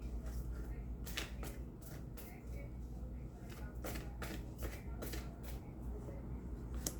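A deck of tarot cards is shuffled in a run of quick, crisp riffling bursts and flutters, close and fairly quiet over a low background hum.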